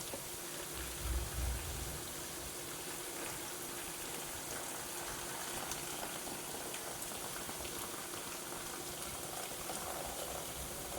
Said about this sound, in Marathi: एका भांड्यामध्ये असं हे सगळं पाणी काढून घ्यायचं